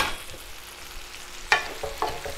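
Apples fry in a pan with white sugar and ground cinnamon, giving a low, steady sizzle. Two sharp scraping stirs break in over the sound, and there is no talk.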